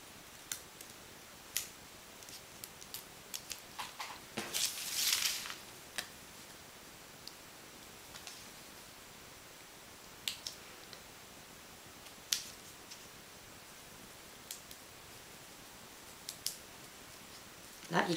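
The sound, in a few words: scissors cutting straw pieces along the edge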